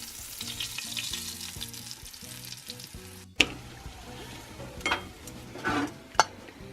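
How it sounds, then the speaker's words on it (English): Slugs coated in flour, salt and garlic powder fry in a pan with a steady loud sizzle, broken by a few sharp clicks and scrapes as they are moved around, with no talking. "I'm just going to stick them in and roll them around and drop them in the frying pan"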